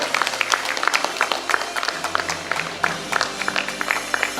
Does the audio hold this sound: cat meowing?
no